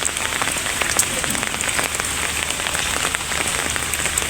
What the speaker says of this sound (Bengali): সারা বাংলাদেশে বৃষ্টি হচ্ছে মোটামুটি